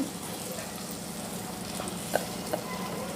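Chopped spices sizzle in hot oil as a tempering for tangy-spicy amla pickle, a soft steady fry with a couple of brief sharp pops.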